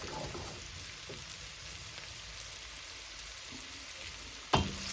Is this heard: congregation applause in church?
no